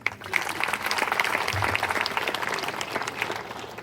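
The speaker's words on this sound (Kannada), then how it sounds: "ಒಮ್ಮೆ ಫಿನ್ಲೆಂಡ್ ಅವ್ರಿಗೆ ಚಪ್ಪಾಳೆ." An audience at a taluk-level Teachers Day celebration claps in a dense, even burst of applause that begins sharply and stays steady and fairly loud throughout.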